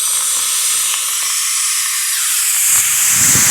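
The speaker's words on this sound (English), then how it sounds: "It's blowing air from the top side." Air hisses steadily and loudly from the top of a leaking air shock absorber removed from a car, a close, continuous rush with a few soft knocks near the end.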